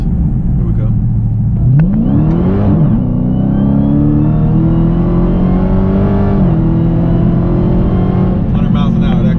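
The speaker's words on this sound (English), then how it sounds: "I'm gonna try to get a burnout in before I get home" A Dodge Hellcat's engine revs hard during a burnout, a loud, close roar that surges up in pitch, holds as a sustained howl, then drops back, heard from inside the car with voices talking over it.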